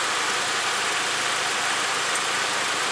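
A car engine idles steadily during an air-conditioning system recharge, a continuous, even, moderately loud hum without any change in pitch.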